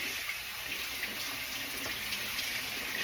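Cold tap water runs steadily into a strainer holding saltfish to wash off the brine, a continuous hissy splashing stream close by with no one talking.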